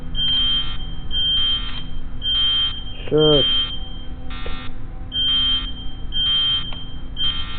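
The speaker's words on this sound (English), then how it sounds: "No matter what I do, I get an alarm." A video game alarm buzzer beeps in a regular repeating pattern of short, loud, evenly spaced bursts, with a voice briefly speaking over it.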